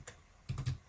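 Clacking keys of a mechanical computer keyboard during a parkour game session, a few quick separate keystrokes followed by a denser burst of loud, close presses.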